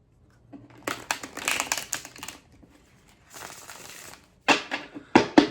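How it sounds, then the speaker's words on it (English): Tarot cards being shuffled close by, a run of quick papery riffling and flicking bursts, a softer middle stretch, then two sharp card-snapping clusters at the end. "All right, one more shuffle."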